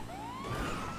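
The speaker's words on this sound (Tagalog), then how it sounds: "Paano yung wangwang dito?" Police car siren in the video game GTA 5, a single rising electronic wail sweeping upward over a loud engine rumble, close and continuous for about a second.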